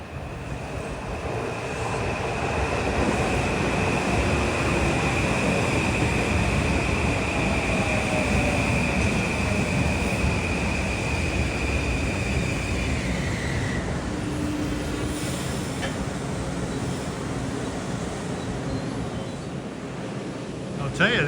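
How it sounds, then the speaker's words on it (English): A westbound Metro-North commuter train from New Haven to Grand Central rushes past near the Bridgeport–New Haven corridor, a loud sustained roar of wheels on rail with a high whine that drops in pitch as it passes. "Approaching west at 229 is 6539 en route from New Haven to Grand Central."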